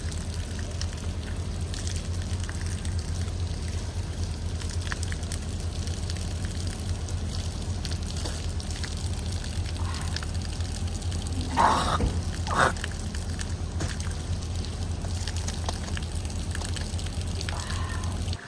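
Cold mountain water runs steadily from taps in the rainy hills on the way to Dirang, a continuous gushing flow with a couple of brief louder splashes midway.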